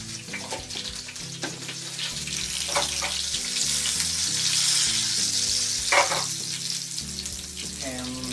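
Green chilies and black cumin seeds (kalonji) sizzling in hot oil for Bengali aloo posto, a loud continuous close crackle and hiss with a few stirring knocks, over a faint musical bed.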